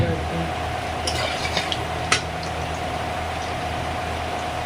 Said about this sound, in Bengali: একটু লাল লাল ভাজা হয়ে গেছে আমি উল্টে দেবো দিয়ে আর একটু ভেজে দেবো